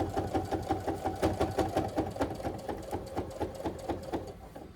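A sewing machine stitches a thick quilt seam in a fast, steady, rhythmic run of mechanical thumps, close and moderately loud throughout.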